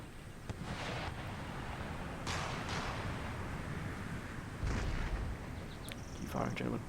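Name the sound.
cannon fire from a battle in the video game Empire: Total War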